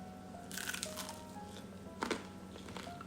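A bite into a crispy shrimp okoy fritter. Two soft, close crunches sound in a quiet room, the first a short cluster of cracks and the second a single sharper snap.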